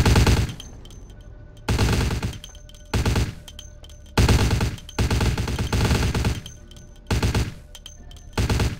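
Gunfire in Vampire: The Masquerade - Bloodlines rattles out in loud bursts of rapid shots, several separate volleys broken by short pauses, with no voices over them.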